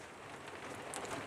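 Rain falls on a Bessacarr 495 motorhome as a quiet, steady patter and hiss, with a few brighter drops tapping close by.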